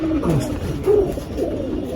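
Pigeons at a bird trading market give low, soft cooing calls, a few rounded coos close by over a murmur of background noise.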